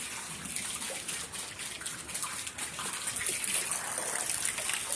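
Water runs steadily into a pool as it fills, a continuous hissing gush that swells slightly toward the end, with no clear speech.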